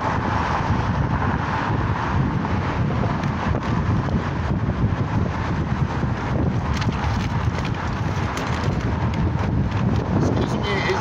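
Strong outdoor wind buffets the microphone at a protest against the University of Phoenix, a steady, loud, rumbling roar that fills the whole stretch without pause.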